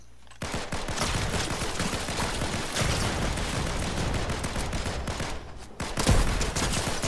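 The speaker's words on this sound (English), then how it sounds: "Long distance pistol" Rapid gunfire rings out in Fortnite, a dense, sustained volley of shots lasting several seconds with a brief gap near the end before another loud burst.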